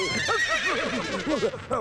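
Horses neighing in a brief, close burst of shrill, wavering whinnies that overlap one another, loud and alone without talk.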